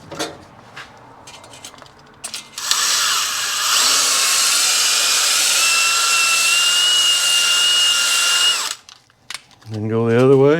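A drill-driven hone spins inside the cylinder of a Yamaha AT2 125 enduro with honing oil, a loud, steady whine lasting several seconds before stopping, and a voice is heard briefly at the end.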